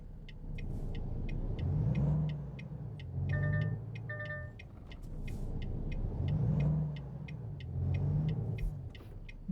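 Road traffic in the video game American Truck Simulator: engines of many cars swell and fade in slow waves, with a repeating high chime or signal tone ticking steadily over the rumble and no talk.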